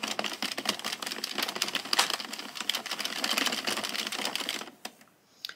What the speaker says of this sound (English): now I'm just going to crank out another